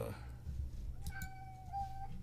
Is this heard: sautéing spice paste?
no